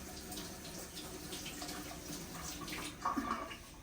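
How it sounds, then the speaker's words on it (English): Hands being washed under a running kitchen tap, a soft steady stream of water with light splashing, faint and close, briefly louder near the end. "Now I have to wash my hands."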